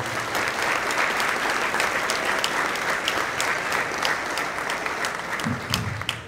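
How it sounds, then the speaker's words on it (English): Sustained applause fills a football banquet hall at San Benito, a dense, steady clapping from a large audience that holds loud throughout, with a brief low thump near the end. "Let's give them a great round of applause."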